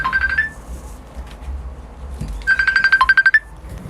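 A phone ringtone rings twice, a short burst of repeating electronic tones followed after a pause by a longer, louder sequence of pulsing beeps, close to the microphone, with no talk over it.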